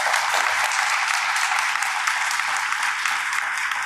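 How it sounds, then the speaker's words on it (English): An audience at a Brampton Transit funding announcement for new buses gives the transit manager a round of applause, steady close clapping held at an even level throughout. "We have a round of applause for Heidi, by the way."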